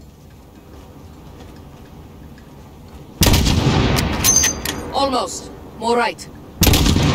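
Rifle gunfire in Call of Duty: Modern Warfare, with a loud sharp shot that trails into a rumbling echo, then radio-style voices, and a second loud shot at the very end.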